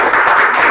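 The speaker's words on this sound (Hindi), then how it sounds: "सबके लिए एक बार जोरदार तालियां।" A brief, loud burst of clapping from an audience at a training session, dense and close, lasting under a second.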